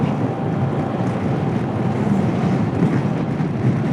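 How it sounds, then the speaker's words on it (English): Strong wind rushes across a microphone on the Oregon coast during a scooter ride, a steady loud roar with low rumbling gusts and no voices. "It's windy."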